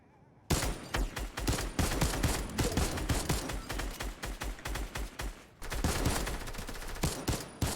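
Gunfire rattles through a Fortnite trios playoff match: dense, loud bursts of rapid shots, a brief pause, then another sustained volley.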